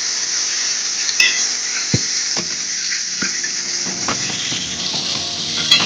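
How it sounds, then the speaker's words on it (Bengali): Diced potatoes sautéing in oil with turmeric and salt in a kadai, a steady close sizzle with a few scattered clinks and scrapes of stirring. "আলু এখন কষা হচ্ছে"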